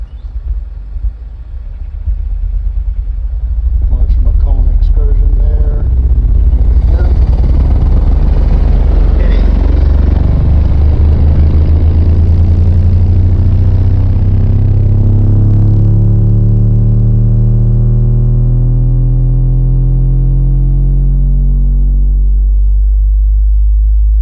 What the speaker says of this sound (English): we're gonna go back and do another sign sweep to see where I'm loud outside of the vehicle